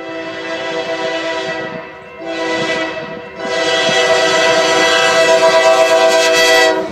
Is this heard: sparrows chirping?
no